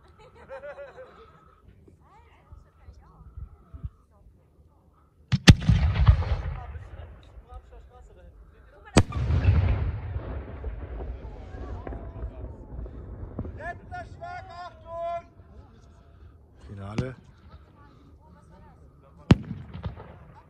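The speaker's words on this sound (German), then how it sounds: "war nur eine Blinker 4 Zoll Bombe auf dem Boden" A 4-inch strobe firework shell goes off on the ground outdoors, heavy booming blasts and sharp cracks scattered over about twenty seconds, each with a rumbling tail, while people talk and laugh nearby.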